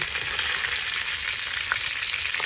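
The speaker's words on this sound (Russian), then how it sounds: "Обжариваю до золотистой корочки." Whole potatoes and garlic cloves fry in oil in a kazan for shashlik, giving a steady, loud, close-up crackling sizzle that carries evenly from start to finish with no voices.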